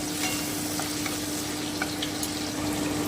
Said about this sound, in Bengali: আমি আরেকটুখানি খুব ভালো করে ভেজে নিচ্ছি যতক্ষণ টমেটোর কাঁচা গন্ধটা তুলে না যাচ্ছে